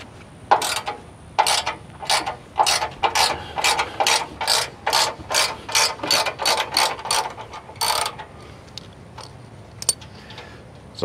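A ratchet wrench clicks in rapid repeated strokes, about a dozen close, loud bursts in steady rhythm, while tightening a bolt on a JCR Offroad prerunner-style bumper bar fitted to a Ford Bronco Badlands.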